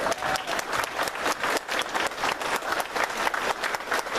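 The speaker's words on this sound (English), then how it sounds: "That kid deserves a round of applause." An audience at a Berks County Patriots meeting claps for a 10-year-old boy, a dense, fairly loud round of applause that pulses unevenly and holds for several seconds without speech.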